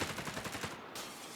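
Rapid bursts of gunfire in the World War II strategy game Company of Heroes 3, a quick rattling string of shots then a trailing decay, moderately loud with no voices over it.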